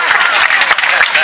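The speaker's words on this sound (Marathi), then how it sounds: "तुम्ही वाजवा टाळ्या, वाजवा" Audience applause at a comedy kirtan led by Shivlila Tai Patil, a dense, steady patter of many hands clapping close by, sustained without a break.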